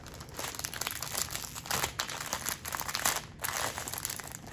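Plastic packaging of diamond painting drills is torn open and handled, giving a continuous, fairly quiet crinkle and crackle with irregular bursts and no talking.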